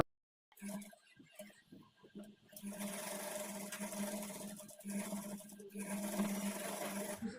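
Sewing machine runs steadily while stitching lace onto the edge of a kids' peplum blouse, a close humming whir after a few brief starts, with soft fabric handling.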